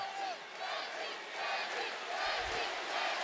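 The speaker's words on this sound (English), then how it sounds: "The crowd chant Deji." A large boxing-event crowd chants a fighter's name in rhythmic, swelling waves, heard from within the arena as a dense, continuous roar of voices.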